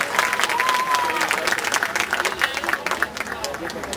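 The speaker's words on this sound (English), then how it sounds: "and to get a nice round of applause from you folks." Spectators at a tiger show applaud steadily, a crowd of dense clapping with some scattered cheers and murmurs, loud and continuous throughout.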